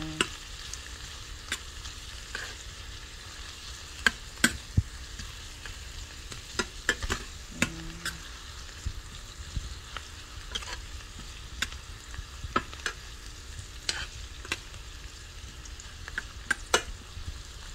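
Onions sautéing in a pan for ginataang langka, a soft continuous sizzle with occasional sharp pops and utensil clicks as they are stirred, heard up close with no talking.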